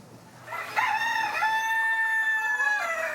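A rooster among foreign-breed chickens such as Silkies and Brahmas on a farm gives one loud, close, drawn-out cock-a-doodle-doo crow lasting most of the moment, with no talking.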